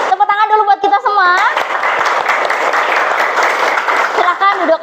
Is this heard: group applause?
yes